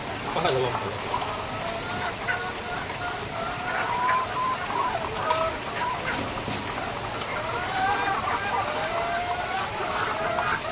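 Chickens clucking at a Philippine poultry farm on a rainy day, a steady chorus of overlapping clucks and squawks under a constant wash of rain or background noise, moderately loud throughout.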